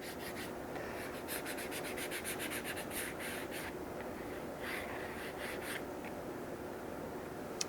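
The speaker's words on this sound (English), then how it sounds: "I'll just grab some like 500 grit. I'll just keep it on the roll, and I'll smooth it out to get rid of those little nicks." Hand sanding of motorcycle paint with 500 grit sandpaper kept on the roll, smoothing out small nicks: a run of quick rhythmic rubbing strokes, then slower scattered scrapes, close and steady with no talk.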